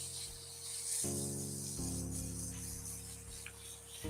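Sandpaper rubbed quickly back and forth against a pen blank spinning on a wood lathe, giving a soft, steady rasp over the lathe motor's constant humming drone, close and fairly quiet.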